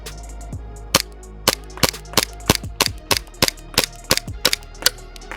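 An Army Armament R501 gas blowback airsoft pistol fires a rapid string of about fifteen sharp, loud cracks, each followed by a quick metallic slide clack, delivered in an uneven fast rhythm close to the listener.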